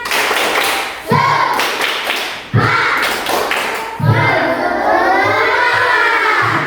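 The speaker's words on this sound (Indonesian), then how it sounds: "Tepuk semangat." A classroom of children does a rhythmic spirit clap: sharp group claps and thumps land in bursts about every one and a half seconds, mixed with loud chanting voices.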